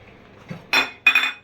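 A lid set onto a pot of kacchi biryani makes two close metallic clanks in quick succession, the second ringing slightly longer, after a faint soft knock.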